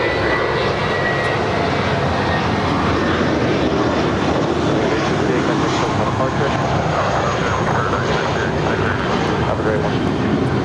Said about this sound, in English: 747-400 freighter about to touch down here.